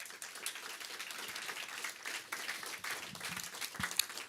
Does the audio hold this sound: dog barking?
no